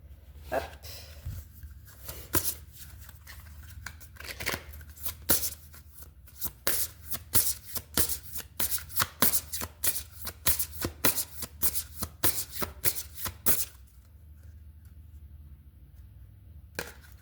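Oracle cards riffled and shuffled in a quick run of crisp, papery bursts, close and fairly loud, then stopping into quiet room tone.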